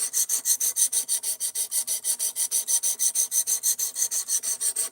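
Steady, rhythmic rasping strokes of an Ozark Trail Axis Lock D2 knife blade drawn across sharpening stones, about five strokes per second, close and even, with no talking.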